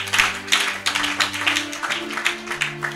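Church congregation applauding, a scattered, uneven patter of hand claps rising and falling in waves over a low sustained tone, moderately close with no talk.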